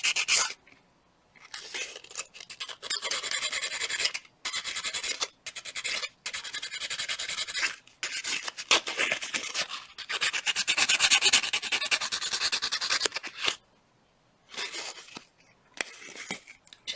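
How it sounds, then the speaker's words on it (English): Sanding the outer surface of a wire-wrapped ammonite pendant: steady raspy abrasive strokes in bursts, close and fairly loud, separated by brief pauses. "Going to lay it back down on my finger and then sand all the outside surface."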